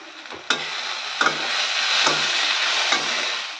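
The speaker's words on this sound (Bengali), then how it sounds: "পেঁয়াজ, আদা, রসুন, কাঁচা লঙ্কা, তো এইসব আর কি ভাজাভাজি করে" Onion, ginger, garlic and green chilli fry in a pan, making a continuous close sizzle broken by four sharp, evenly spaced knocks of a spatula stirring.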